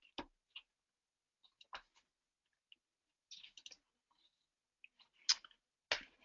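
Computer mouse clicks, several sharp isolated clicks spaced irregularly, faint and close in an otherwise quiet room, with a quicker pair near the end.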